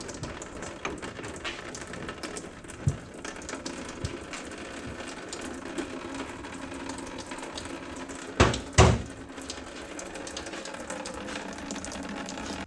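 A ratchet works loose the fuel line fittings on a car during a fuel pump replacement. Its fine clicking comes up close, with a couple of sharper metallic knocks near the end and no talk.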